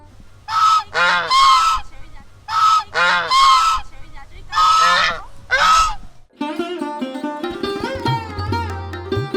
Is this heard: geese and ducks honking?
yes